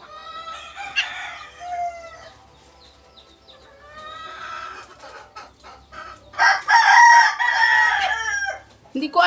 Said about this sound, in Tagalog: Huni ka na, ibon.